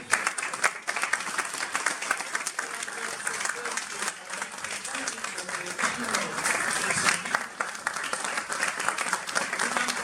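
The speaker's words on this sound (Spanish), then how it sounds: "Vamos a ir un aplauso fuerte para los dos ponentes" An audience at a talk by two speakers at a cultural institute in Fez breaks into strong applause, a sustained crackle of many hands clapping at once, with voices and cheers mixed in beneath it.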